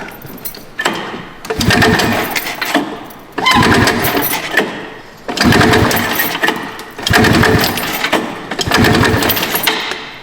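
A vintage Kawasaki Drifter motorcycle being kick-started to revive it, several loud bursts of engine cranking and sputtering, each lasting about a second or two, separated by short pauses, close and dominant.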